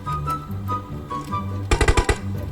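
A quick burst of about five automatic gunshots in PUBG Mobile cracks out loud and close near the end, standing out over a low, steady game backdrop with tonal hum.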